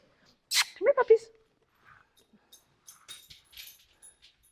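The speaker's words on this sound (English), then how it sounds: "Come here, puppies." Puppies on a homestead whimper and yip close by, a few sharp high cries in quick succession followed by softer scattered whines and sniffs.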